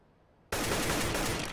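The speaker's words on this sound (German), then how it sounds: "Schießen mal ein bisschen rein in den Rauch" Sustained automatic gunfire in the video game CS:GO, sprayed into a smoke cloud, erupting abruptly after a quiet moment and continuing loud and dense without pause.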